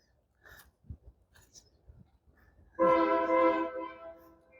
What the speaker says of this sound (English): Train horn.